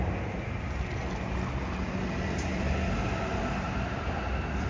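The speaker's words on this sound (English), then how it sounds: "So there's the Yamanote line train passing" Yamanote line train passing below a street in Tokyo near Ikebukuro, a steady broadband rumble and rush held at an even level throughout, no talk.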